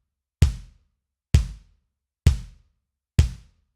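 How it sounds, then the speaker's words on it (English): Four deep bass drum kicks, evenly spaced and alone, each a punchy low boom that decays quickly into silence. "Boomer, being a bass drum or a kick drum, makes a boom sound like this."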